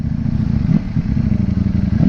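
A Ducati Streetfighter V4 motorcycle engine idles and burbles up close, a loud, rough low-pitched throb with a slight lift in revs partway through and no speech over it.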